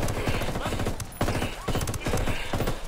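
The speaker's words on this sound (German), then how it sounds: "Mehrere Schüsse." Video game gunfire from Ghost Recon Wildlands rattles in rapid, loud bursts of automatic shots that repeat across the stretch, dense and close with no pause.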